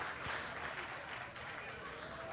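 Audience at a gala applauding, a dense wash of clapping from a crowd that fills the room steadily throughout, with a voice speaking faintly beneath.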